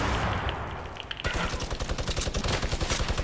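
A video game minigun opens up with a rapid, steady stream of loud, evenly spaced shots after a moment of mixed game noise, the burst continuing to the end.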